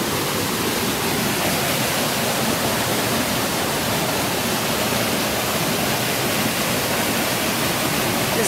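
Stream water flowing continuously beside a coffee processing plant on a river, a steady broadband rush that stays even and close throughout, with no voices.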